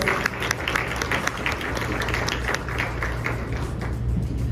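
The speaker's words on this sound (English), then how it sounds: "So let's give him a warm round of applause." Guests at an appreciation dinner applaud to welcome the Consul General of Pakistan to Canada, a moderate, even patter of many hands in a room with a low steady hum beneath it.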